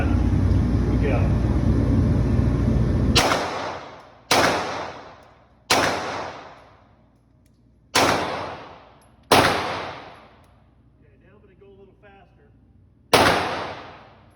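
Six loud, close gunshots ring out from a gun fitted with an aftermarket Timney or Apex trigger, the first five a few seconds apart after a burst of noise, each crack fading into echo, the last after a longer gap.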